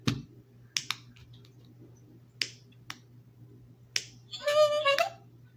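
A defective ZURU Pets Alive Hamstermania electronic toy hamster: a few sharp clicks and ticks spaced irregularly over a steady low hum, then a brief buzzy mechanical whir near the end as it tries to move.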